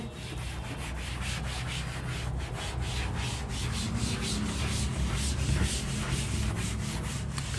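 Steady rhythmic rubbing as writing is wiped off a board, with repeated brisk strokes close by and no talk.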